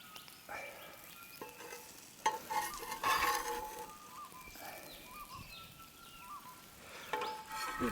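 Burger patty and onion sizzling and crackling over campfire coals outdoors, a steady soft sizzle with scattered pops and louder bursts, birds calling faintly in the background.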